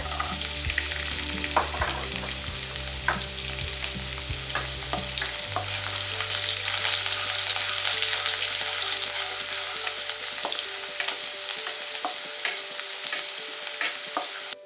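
Ginger and garlic sautéing in hot oil in a pan for mutton masala, a steady loud sizzle and frying hiss running throughout with occasional stirring clatter, no voices.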